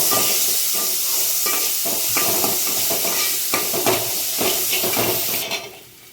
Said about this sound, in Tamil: பொடிசாக வச்சுருக்க வெங்காயத்தை சேர்த்துக்கலாம்